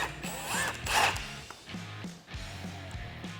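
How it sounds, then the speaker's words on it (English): A nut is worked off the shift lever of a Polaris RZR XP Turbo transmission, giving quiet, close metallic ratcheting clicks and short scraping turns in a run of irregular bursts. "we're going to go ahead and remove the shift lever off of the transmission"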